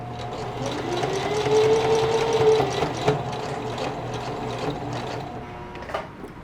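A sewing machine running a zigzag stitch on the back pocket of a pair of jeans, a steady close mechanical whirr with a rapid rhythmic needle clatter that continues for several seconds alone.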